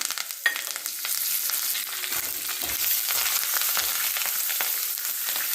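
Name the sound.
cumin, curry leaves and asafoetida sizzling in oil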